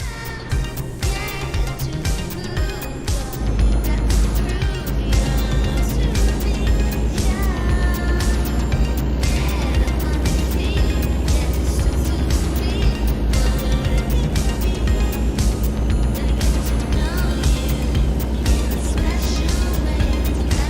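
A heavy truck drives in American Truck Simulator on the Wyoming DLC route from Ontario, Oregon to Gillette, Wyoming, its engine a loud, steady drone that continues without a break throughout.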